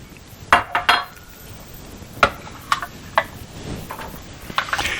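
Pieces of a large cauliflower head drop into a bowl, producing a scattered series of light knocks and clinks, several close together early and a few sparser ones later.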